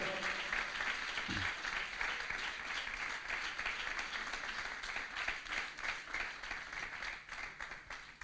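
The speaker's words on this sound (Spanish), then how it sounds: "Fuerte el aplauso al Señor." Steady, dense applause from a church congregation, sustained clapping filling the room at moderate distance for several seconds with no one speaking.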